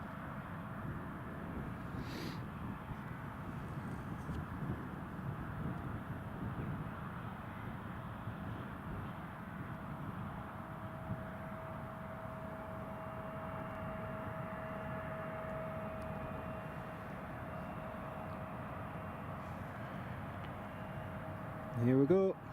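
Airliner carrying Newcastle United taxiing in at Newcastle International Airport, a distant, steady engine rumble with a thin whine holding through most of the stretch, with brief louder bursts near the end and faint background noise throughout.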